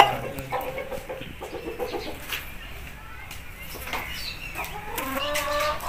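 An aseel rooster gives short, soft clucks and low throaty calls at close range, heard intermittently while someone talks over it.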